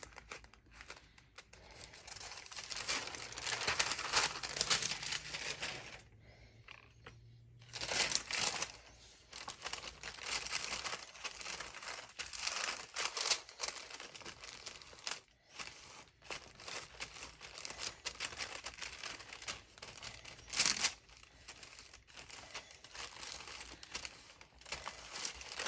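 Sheets of tracing paper handled and crinkled up close, with steady crackling and rustling through most of the stretch, a brief quiet gap, then more crumpling with a few sharper crunches.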